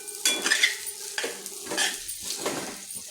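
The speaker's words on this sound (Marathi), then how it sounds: "सर्व मिश्रणाला मी हलवून घेते तांदूळ चिकटले जातात कढईला ते हलवून घेते" A spoon scrapes and stirs sabudana khichdi with potatoes and salt in a metal kadhai, giving repeated clinking and scraping strokes over a light sizzle, close and fairly loud with no talk.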